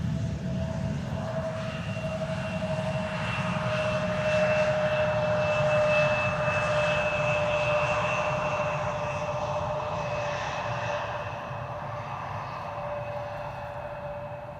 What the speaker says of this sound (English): we have KLM Flight 1004 turning in. That's an A321neo arrival from London Heathrow